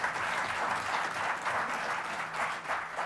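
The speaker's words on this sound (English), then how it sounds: "give him a round of applause" An audience at a climate conference panel claps steadily, a dense wash of applause that holds at an even level for a few seconds.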